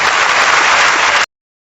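Audience applause at a Turkish competition show as a contestant is introduced, dense loud clapping for just over a second before cutting off abruptly.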